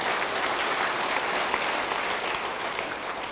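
A church congregation applauds during a sermon, a full, steady wash of many hands clapping at once that holds evenly from start to finish without voices.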